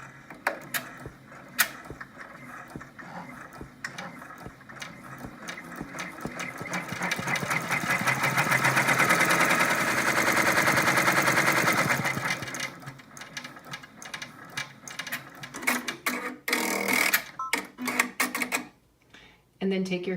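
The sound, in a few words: embroidery machine stitching outline for vinyl hair placement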